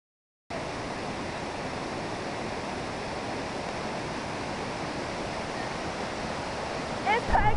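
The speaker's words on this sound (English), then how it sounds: "water falling fast down a hill" Reed Falls pours down a hillside in a steady, loud, broadband rush of falling water that begins abruptly and holds constant, with a few brief bumps near the end.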